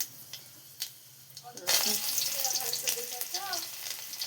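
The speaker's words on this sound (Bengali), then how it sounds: "শাকের জন্য কড়াতে তেল দিয়ে দিয়েছি এরপরে পাঁচফোড়ন দিয়ে দিলাম" Panch phoron seeds dropped into hot oil in a kadai sizzle and crackle up close. A quiet hiss comes first, then the sizzle swells abruptly and keeps going, with faint voices underneath.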